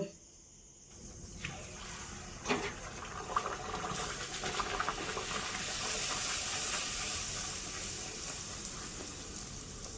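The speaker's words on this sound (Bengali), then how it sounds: "বেশ অনেকক্ষণ থেকে লুচি ভাজা শুরু করেছি" Luchi, puffed wheat flatbreads, deep-frying in hot oil, a steady broadband sizzle that builds and holds, with a few sharp clinks and bursts early on and no talk.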